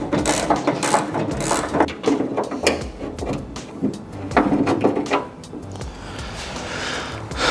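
A metal door latching mechanism is worked loose and pulled from a Holden HX one-tonner truck door during stripping, giving close, continuous metallic rattling, clicking and ratchet-like scraping with uneven bursts.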